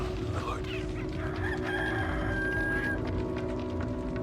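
A rooster crows amid the in-game soundscape of Resident Evil 4, a sustained rising crow over dense, steady background noise with bits of clucking-like fowl sounds, moderately loud and continuous throughout.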